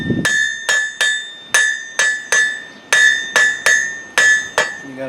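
A blacksmith's hammer strikes hot metal while finishing a taper, about a dozen loud, ringing blows in an uneven rhythm, each with a bright metallic ring that decays before the next hit.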